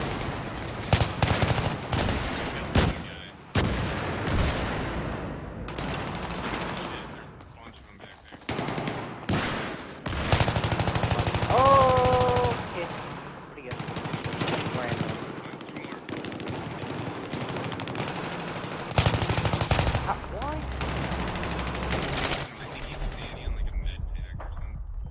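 Rapid gunfire bursts from Battlefield 3 on Xbox 360, played in the open beta, come loud and repeated in clustered volleys with short gaps, mixed with in-game effects, while a player talks over them.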